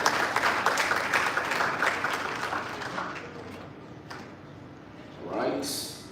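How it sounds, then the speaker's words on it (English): An audience applauds a panel at a live event; the clapping starts strong, thins out after a few seconds, and a voice comes in near the end. "Give them another round of applause"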